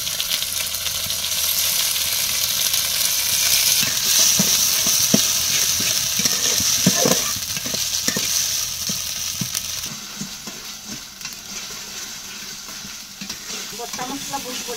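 Onion and masala fry in hot oil in a village-style sponge gourd curry, sizzling steadily with scraping stirring strokes and clinks through the middle.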